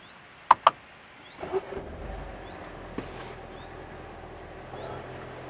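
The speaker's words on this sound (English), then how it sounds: "Let's start the car up." A Mercedes-Benz A200 with a 1.3-litre inline-four petrol engine starts after a couple of sharp clicks, then settles into a low, quiet idle hum.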